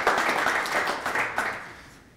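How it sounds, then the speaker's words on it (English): Audience clapping at a security conference talk on hosted SAP environments, rising after a successful live exploit demo; a short burst of dense applause that swells briefly and then fades out within a couple of seconds. "whenever there is a successful exploit, there is clapping."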